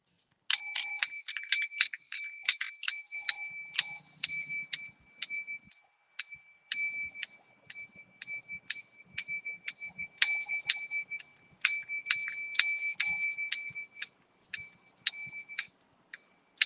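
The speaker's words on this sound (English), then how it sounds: "I need a better bell. That bell is a lot." A small bicycle-style bell is rung over and over in quick bursts of bright metallic dings, loud and close, with brief pauses between runs.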